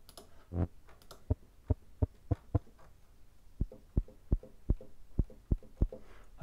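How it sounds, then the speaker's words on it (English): A synthesized kick drum from Ableton Operator, an understated soft thump repeating in a steady pulse of short low hits, quiet and alone. "That could be quite a nice kick drum, but an understated kick"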